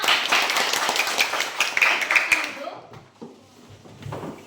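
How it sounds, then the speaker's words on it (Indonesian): A class claps hands together in a short burst of rhythmic, fairly close clapping that stops abruptly, followed by quieter room sounds and faint voices. "Oke, tepuk tangan semuanya."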